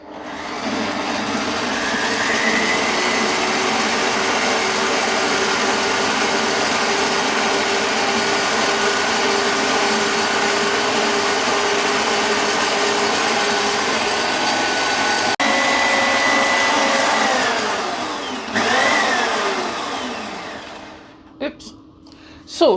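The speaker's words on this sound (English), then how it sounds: "So what you do is upend your cream into your mixer." Electric mixer whipping cream into butter, a steady loud motor whine with churning that runs almost without break, then slows and stops near the end.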